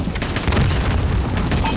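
A sticky grenade going off in Call of Duty, heard as a dense, booming blast with crackling bursts of gunfire mixed in, loud and continuous throughout the short stretch.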